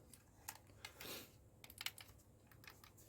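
Buttons on an original Nintendo DS console are pressed in quick irregular bursts, soft plastic clicks and taps close by, with no talk over them.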